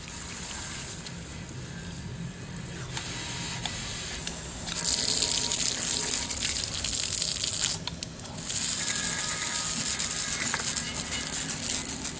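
Water rinses a Poison Spyder body-mount tire carrier part, giving a steady hiss of spraying water that grows louder and fuller midway, briefly drops, then resumes strongly, close and continuous.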